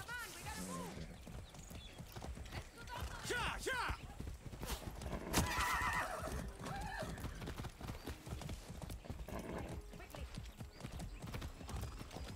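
Galloping hoofbeats clatter steadily while a horse neighs a few times in the video game Far Cry 6, with a voice talking over the game sounds.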